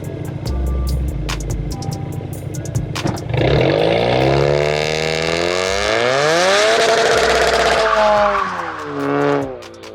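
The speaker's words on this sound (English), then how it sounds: "the best way to warm up these tires might be doing a burnout" A car spins its tires in a burnout to warm them, engine revving hard with rising harmonic whine and tire squeal building over several seconds, loud and close, with no talking.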